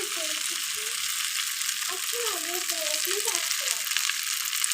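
Pasta being stirred and mixed in a hot pan, a continuous sizzle and frying hiss with faint scraping, while a voice talks over it at moderate level.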